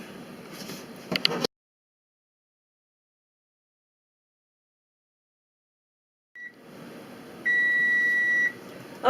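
Steady electronic beeping from a kitchen timer while pokeberry jelly bubbles on the stove, a sustained tone after quiet, following some clattering kitchen noise.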